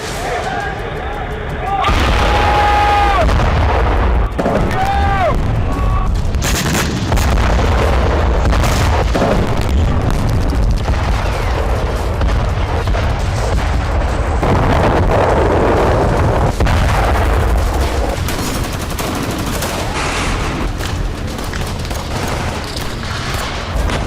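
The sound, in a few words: explosions and gunfire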